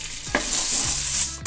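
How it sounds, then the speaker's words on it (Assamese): Whole spices, dried red chillies and bay leaves fry in a little oil while being stirred, giving a steady close sizzle with a few sharp scraping strokes of the spoon against the pan. "এইখিনি অলপ লৰাই দিছো, অলপ ভাজি লৈছো।"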